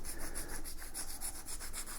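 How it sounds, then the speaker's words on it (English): Sandpaper scuffs an electric unicycle inner tube in quick, even back-and-forth strokes, a close, soft, rhythmic rasping with no talk. "Using the sandpaper, you are going to scruff up"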